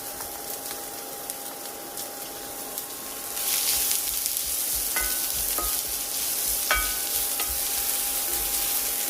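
Chopped onion and garlic hit a hot pan and sizzle steadily, the frying growing louder and brighter partway through, with a few light utensil clinks and stirring scrapes over the continuous hiss.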